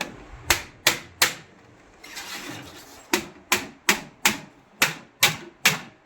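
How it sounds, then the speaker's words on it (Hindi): A heavy-built seed drill sowing machine being struck with a hammer, about ten sharp metallic blows in a steady rhythm, with a brief rubbing scrape partway through; close and loud, no talk. "इसके बाद में मशीन को ठोक के दिखाते हैं"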